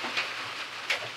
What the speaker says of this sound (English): It's morning time and it's raining.